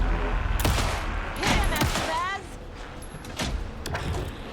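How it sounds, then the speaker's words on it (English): Rapid gunfire in the video game Alan Wake II crackles through the soundtrack while voices talk over it, with sharp bursts and a lingering electronic hum. "Anderson, pin him down with gunfire for me to get the light on him"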